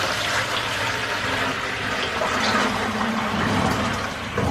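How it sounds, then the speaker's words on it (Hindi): Filtered water pours steadily into a white plastic container, a continuous broadband rush of moderate loudness with no pauses and no voices. "ये फिल्टर वाला पानी गया है भर, और इसको मैं अब उठा के इस डब्बे में डाल दूंगी।"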